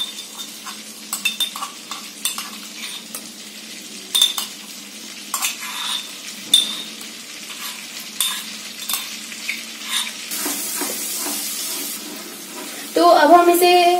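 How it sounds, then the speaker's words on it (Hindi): Garlic sautéing in melted butter in a pan: a soft steady sizzle under intermittent spoon scrapes and taps, close up, with a louder clatter near the end. "तो अब हम इसे हल्का सा सॉटे करेंगे 1 मिनट तक, ताकि जो गार्लिक का कच्चापन है वो चला जाए"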